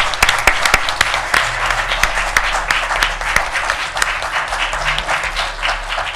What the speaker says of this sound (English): If we could give him a round of applause for his achievement.